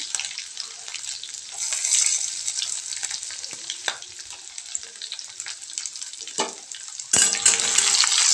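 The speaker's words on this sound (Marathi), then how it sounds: "कांदा छान तळून घ्यायचा।" Onion frying with garlic and curry leaves in a pan, a bright close sizzle with scattered crackles and occasional stirring scrapes, growing louder and fuller toward the end, with no talking.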